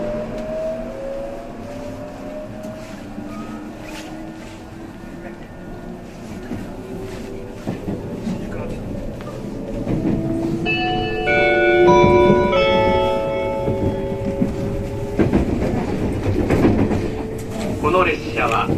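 Limited express train Kaiji No. 11, bound for Kofu, departs Hachioji station. The electric motor whine climbs steadily in pitch as it gathers speed over rolling rail noise, with a brief tonal chime midway and faint voices in the background.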